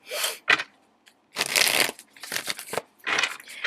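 A deck of tarot cards is shuffled by hand in several quick riffling bursts separated by brief pauses, crisp and close with papery flicks and no speech.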